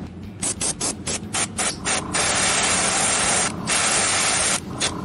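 An airbrush sprays paint onto a Marvel Zombies Human Torch miniature from Zombicide, starting as a string of short hissing bursts and then settling into a long, steady, close spray with one brief pause and a final short burst.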